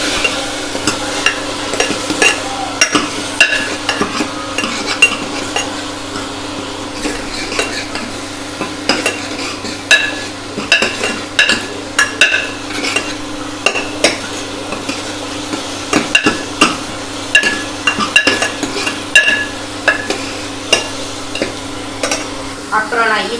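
Onions and shallot paste sautéing in a pan for mutton paya, with a steady sizzle under frequent scraping and clinking of a spoon stirring against the pan, close and prominent.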